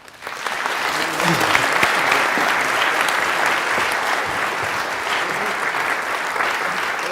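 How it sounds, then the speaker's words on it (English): Sustained audience applause welcoming a speaker onto the stage at a science lecture on black holes, a dense steady clapping from a large crowd that swells within the first second and holds loud throughout, with faint voices underneath. "So help me welcome Juna Kollmeier to the stage."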